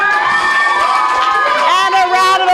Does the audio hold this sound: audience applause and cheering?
yes